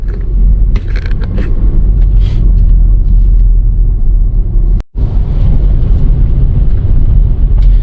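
A park ranger's vehicle rolls past a campsite at Schoolcraft State Park in northern Minnesota, a steady, fairly loud engine rumble and tire noise close by, with a brief dropout midway and no talking.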